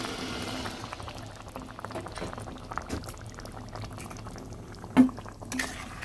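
Hot water poured into a simmering Bengali katla fish curry with coriander, a soft steady bubbling and liquid pour close by, with a brief louder splash near the end.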